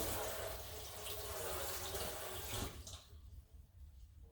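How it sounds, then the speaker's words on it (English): Running kitchen tap water rinsing a knife, a steady close splashing stream that cuts off just under three seconds in, leaving faint quiet room noise. "I'll rinse my knife again."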